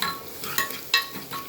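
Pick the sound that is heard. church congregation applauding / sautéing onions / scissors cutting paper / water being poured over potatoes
sautéing onions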